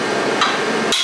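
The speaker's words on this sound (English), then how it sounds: "Take your handy dandy whacking device here." A hammer strikes a car part during repairs on a Lexus IS300 after a drift session, giving two sharp, loud metallic whacks close by in about a second.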